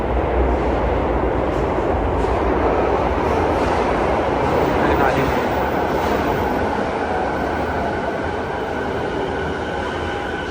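A train runs through a Japanese railway station with a steady, loud low rumble of rolling railcars and faint wheel clatter, continuous and close, without talking.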